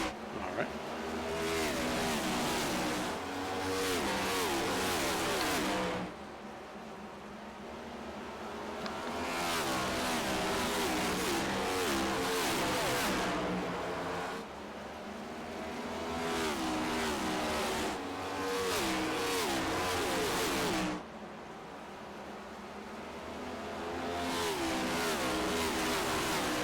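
NASCAR Next Gen stock cars racing at Bristol in the iRacing simulator, engines roaring loudly and continuously, with repeated rising and falling passes as the pack sweeps by every few seconds and no talk over them.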